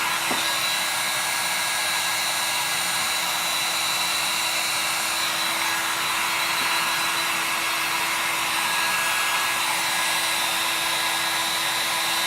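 A heat tool blows hot air over resin on glass, a constant loud whooshing fan roar with a steady motor whine throughout, unbroken and close, with no talk.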